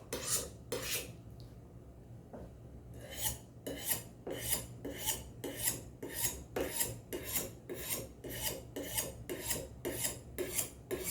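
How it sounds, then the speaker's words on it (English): Steady, rhythmic metallic scraping of a blade stroked along a sharpening steel, with regular strokes after a brief pause, close and clear. "If you just want to be sure you're stroking along the axis of the sharpening steel"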